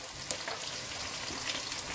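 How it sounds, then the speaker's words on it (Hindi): Chicken and onions fry in a pan, giving a steady, fairly quiet sizzle with a few small pops and no talking. "अब इस लेवल पे हम इसके अंदर चिकन डालेंगे, साथ साथ हमारा चिकन भी फ्राई हो जाएगा"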